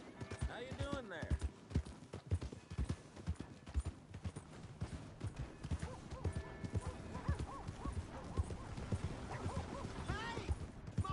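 Horse hooves clip-clop steadily in Red Dead Redemption 2, with a whinny near the start, running under a voice talking throughout.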